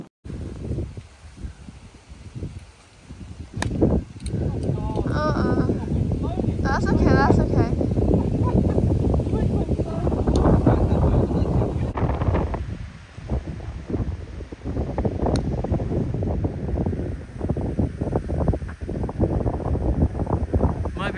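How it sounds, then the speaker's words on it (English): Wind gusting across an outdoor golf course during a match, heard as rushing wind and buffeting against the microphone, with people talking over it throughout. "the wind's blowing it"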